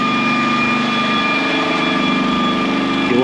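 A plastering machine's 5.5 kW three-phase electric motor drones loudly with a constant mechanical whine and hum, running evenly throughout without pauses.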